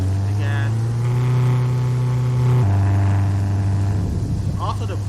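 A 2016 Honda Civic pulls away under throttle, its engine a steady, fairly loud drone that steps down in pitch at a shift before building again, heard from inside the car.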